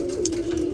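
Roller pigeons of pure Courtney stock in a loft give a low, steady coo that holds throughout, close and fairly loud.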